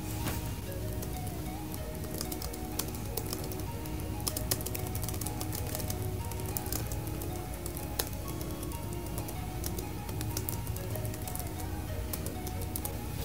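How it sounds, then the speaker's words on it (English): Typing on a Google Pixel C keyboard: a continuous run of quick, light key clicks in an irregular rhythm, close and steady for over ten seconds with no talking. "And we'll just start typing."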